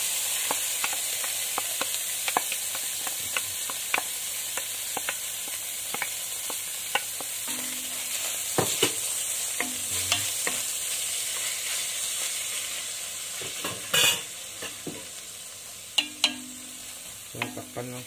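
Fermented tofu and black beans being stirred in a frying pan for tochong bangus, with steady sizzling and scattered scraping taps of the utensil, close and moderately loud, without talk.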